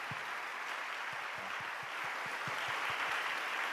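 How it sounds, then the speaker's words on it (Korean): A church congregation applauds in welcome during a Sunday morning worship service, a steady broadband wash of many hands clapping at moderate volume with no talking over it. "따뜻한 환영의 박수 한번 같이 보낼까요?"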